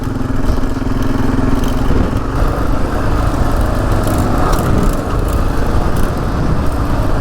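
A Kawasaki KLR Gen 3 motorcycle engine drones loud and steady while riding over rocky ground, with rough broadband road and wind noise throughout and no talking.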